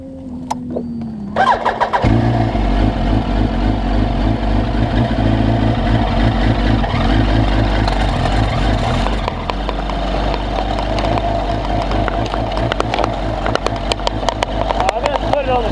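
A damaged, leaking race motorcycle at a track starts up and runs loud and close, with a steady throbbing idle and revving under brief talk.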